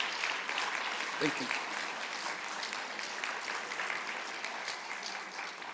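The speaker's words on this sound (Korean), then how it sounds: "자, 박수로 환영하겠습니다." A church congregation claps steadily to welcome two young visitors standing during Sunday worship, a broad, even roomful of applause with a short spoken thanks partway through.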